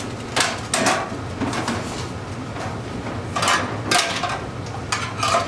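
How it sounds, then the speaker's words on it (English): Tin snips bite through thin aluminum siding material in a handful of sharp, scraping crunches spaced irregularly over a constant background hum, fairly close and moderately loud. "you can just use a pair of snips. It's very thin aluminum."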